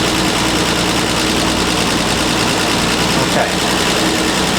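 Steady idle from a car engine with freshly synchronized Zenith-Stromberg carburetors, a loud, even rumble that runs unbroken, with one brief spoken word near the end.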